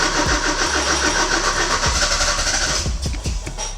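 A Porsche 944 engine cranks repeatedly with a rhythmic churning whir of the starter, then catches briefly with a few sputtering coughs near the end, heard up close with no talk.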